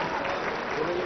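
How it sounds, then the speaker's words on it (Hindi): Audience applause at a government inauguration ceremony for a Ganga water supply scheme in Bihar, a dense steady clapping of a crowd heard alongside a voice over a public address system. "जोरदार ताली आप सबकी ओर से"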